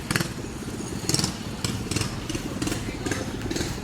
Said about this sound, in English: It's like a dirt bike.